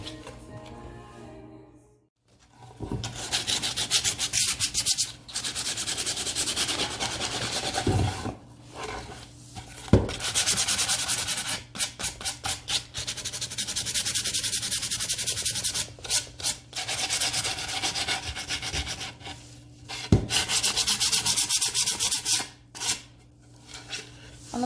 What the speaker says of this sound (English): take the sandpaper and really sand the corners and get that distressed look going on